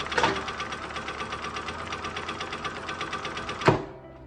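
A Reliable 8100DT drapery tacker sewing machine stitches a tack in a fast, even run of needle strokes lasting a few seconds, then ends in a sharp clunk as it cuts, and no one speaks.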